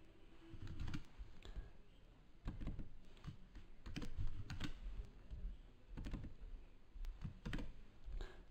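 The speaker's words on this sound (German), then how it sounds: "Bei deutschen Wörtern kann ich sie jetzt natürlich auch im Prinzip einfach neu tippen." German words are typed on a computer keyboard in short bursts of quick, light key clicks with brief pauses between them, close and quiet.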